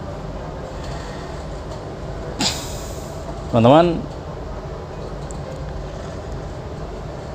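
Interior of a moving train travelling home to Cilacap, a steady low rumble and hum filling the carriage, with a brief thump and someone speaking briefly over it.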